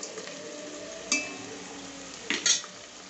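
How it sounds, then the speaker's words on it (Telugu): A spoon stirs mushroom biryani ingredients as they fry in a pan: a steady soft sizzle, broken by a few sharp metal scrapes and clinks against the pan, close by and with no talk. "వేసి కలుపుకుందాం. కొద్దిగా వేగనిద్దాం."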